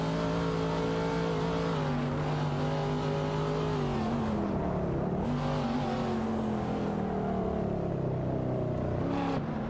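Race car engines in a racing video game, including a Porsche 911 Turbo, drone loudly and continuously, their pitch climbing and dropping as the cars accelerate and shift through gears.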